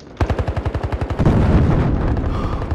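Rapid automatic gunfire in the video game Battlefield Hardline, a quick burst of about fifteen sharp shots followed by a denser, rumbling volley.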